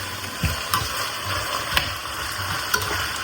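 Ingredients for prawn biryani sauté in a pan, making a steady, close sizzle broken by a few sharp clacks as a spoon stirs against the pan.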